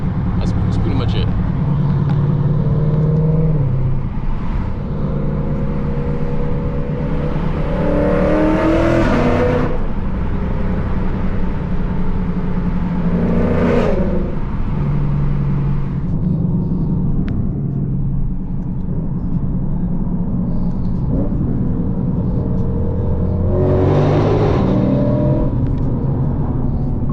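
A loud Lexus RC F engine revs repeatedly, its exhaust roaring and rising in pitch, with a constant rumbling drone throughout.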